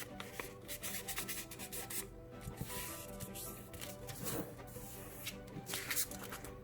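Origami paper being folded and creased for a crane, starting from a basic box fold, with close, steady rustling and rubbing plus a few sharper crinkles, heard alone.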